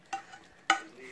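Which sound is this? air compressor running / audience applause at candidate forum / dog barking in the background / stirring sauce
stirring sauce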